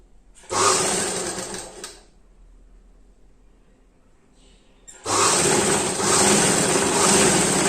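A sewing machine stitches a folded piece of an envelope-style polo cover in two loud, steady whirring runs, stopping for about three seconds between them, close up and with no talk.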